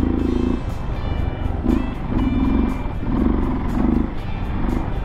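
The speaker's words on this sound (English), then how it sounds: "I can tell the bike isn't warmed up, doesn't want to take the throttle very good." A cold dirt bike on dry, loose sand revs in repeated short throttle bursts, its engine bogging and surging in an uneven rhythm close by.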